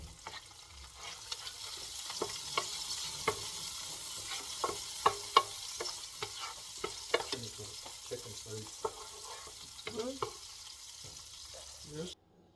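Celery frying in a pot for carrot and coriander soup, with a steady sizzle and repeated scraping stirs throughout, stopping abruptly at the end.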